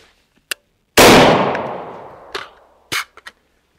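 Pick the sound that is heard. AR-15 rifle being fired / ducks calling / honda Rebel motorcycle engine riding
AR-15 rifle being fired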